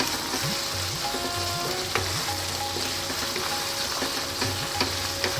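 Turmeric, cumin, coriander and chili powder fry with a steady, loud sizzle in a pan for a red kidney bean curry, while a utensil stirs and scrapes in repeated strokes throughout.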